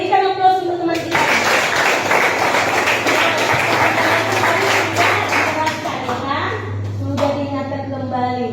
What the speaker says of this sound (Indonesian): Berikan aplaus untuk teman kita.